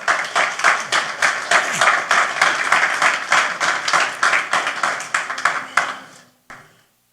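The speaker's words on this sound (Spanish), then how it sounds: "¿Por qué no le damos un aplauso a los que levantaron la mano?" Audience in a church clapping together, a dense steady burst of applause for several seconds that cuts off abruptly near the end, leaving only faint room sound.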